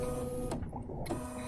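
An embroidery machine stitching a placement line on a hexagon hot pad gives a steady mechanical whir with a tonal hum. The whir cuts out briefly in the middle, then resumes, close and moderately loud.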